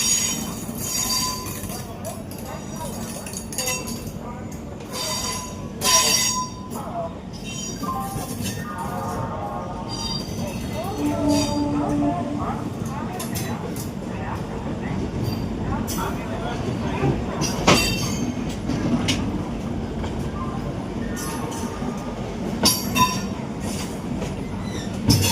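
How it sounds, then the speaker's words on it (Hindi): Howrah Amritsar Mail leaving Howrah station and gathering speed, with a continuous heavy rumble, rhythmic clickety-clack of wheels over rail joints and occasional squeals, alongside intermittent voices nearby. "हावड़ा मेल हावड़ा से निकल चुकी है।"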